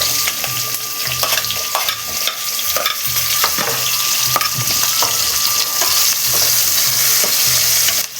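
Green chillies and onions sizzle steadily in a hot pan for a homemade paneer curry, with repeated scraping stirs of a spoon cutting through the constant frying hiss.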